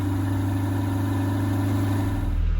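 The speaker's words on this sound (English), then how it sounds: "I'm in the idling Temerario, and it just feels so intense in here with a OEM exhaust" A Lamborghini Temerario V8 engine with stock exhaust idles steadily with a deep, rumbling low hum, heard from close by inside the cabin, rising slightly near the end.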